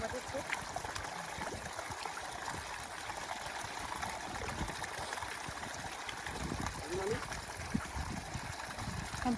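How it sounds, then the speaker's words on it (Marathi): Water flows steadily in a stream running through a farm field in Konkan, a continuous soft trickling wash that stays even and fairly quiet throughout. "पाण्याचा आवाज तर येतोय"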